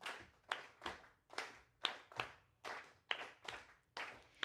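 A crowd claps together in time to a beat, with about ten sharp, evenly spaced claps in a steady rhythm that sound moderately close and fill the room, with no voices over them.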